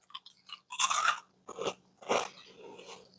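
Close, loud crunching bites of crisp homemade clumped cereal being chewed, several distinct crunches separated by brief pauses, with no talking.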